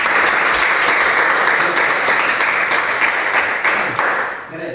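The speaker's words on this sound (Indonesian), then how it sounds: "tepuk tangan untuk Fandi" A classroom of students claps for a classmate, dense and loud, sustained for several seconds before easing slightly at the end.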